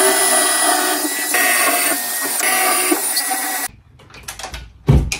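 Power drill boring a hole into a wall, a loud continuous whine for several seconds that cuts off, followed by a few scattered knocks and clatters.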